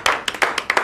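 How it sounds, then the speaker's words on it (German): A small group claps briefly for a colleague in an FBI crime investigation office, sounding as sharp, close hand claps in a quick uneven burst of about seven strikes. "Applaus für Martha"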